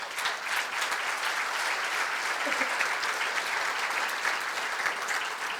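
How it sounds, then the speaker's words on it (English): Steady applause from an audience at a community forum celebrating immigrants in Marin, a full wash of many hands clapping evenly throughout without pause. "Please give yourselves a big round of applause for showing up today."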